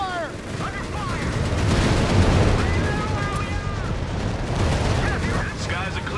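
Heavy machine gun fire in Company of Heroes 3 crackles and booms in a dense, loud battle mix, with distant explosions and bursts rolling throughout while voices and radio chatter break in over it.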